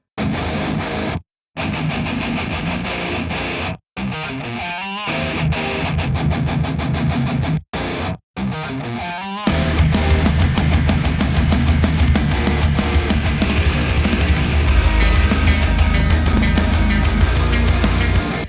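Electric guitar through a TS9 overdrive pedal in front of the amp, choppy gritty riffs with brief pauses, then a denser, thicker distorted wall of sound that plays continuously, loud and close.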